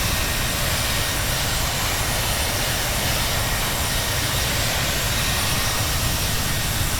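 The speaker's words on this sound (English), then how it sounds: "Oh, nice landing. I just love those little sounds." Aircraft landing in the Traffic Global flight simulator, a continuous broad roar of engine and airflow, steady and fairly loud throughout with no distinct events.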